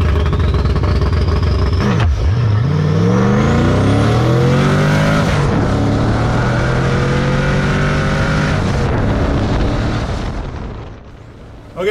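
A twin-turbo Ford Crown Victoria with a junkyard engine makes a drag strip launch with low air pressure, giving a loud, close roar that climbs through several gear changes, then fades as the car pulls away.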